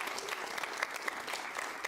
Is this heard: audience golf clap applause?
yes